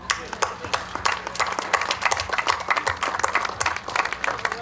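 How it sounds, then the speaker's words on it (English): Applause for the mayors at a Cupertino golden jubilee time capsule ceremony, a steady patter of many hands clapping with sharp individual claps standing out over a low room hum. "We owe them a really great round of applause"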